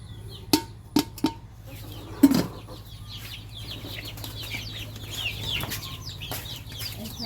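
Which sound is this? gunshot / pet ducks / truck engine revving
pet ducks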